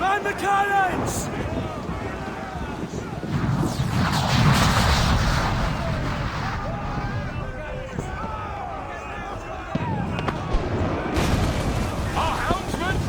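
Ship cannons boom in a naval battle from the video game Assassin's Creed IV, heavy blasts rolling over wind and sea noise, with shouting voices throughout.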